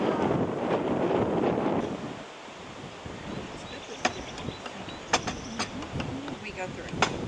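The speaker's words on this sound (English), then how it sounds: "It is nice and sunny, but the wind is a little on the chilly side." Wind buffets the microphone on a boat's flybridge on a sunny shoreline cruise, heavy roaring gusts at first, then easing to lighter rushing with scattered knocks and clicks, a voice talking over it.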